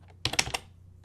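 Fingers type a short burst of keystrokes on a computer keyboard, a quick cluster of close, crisp clacks at moderate volume, followed by one faint tap.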